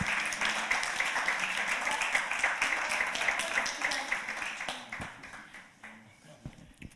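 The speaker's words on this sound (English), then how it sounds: "An applause to Ryan" Audience applause at a final event of a conference, dense clapping filling the room for several seconds before thinning out and fading near the end.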